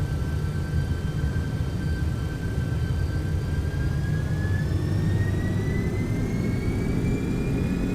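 MD-11F jet engines in the X-Plane 12 flight simulator spool up on the runway for takeoff, a steady loud roar with deep low rumble and a rising whine that climbs gradually as thrust builds.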